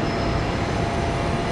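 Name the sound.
train arriving at a Brisbane station platform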